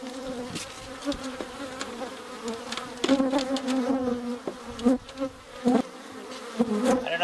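Close, steady buzzing of honeybees at a horizontal beehive, a low droning hum with louder swells as individual bees pass near, no talking.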